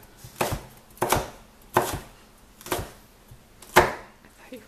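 A knife chops vegetables for a stir fry on a cutting board with five sharp, evenly spaced strikes, close and distinct, with quiet pauses between them.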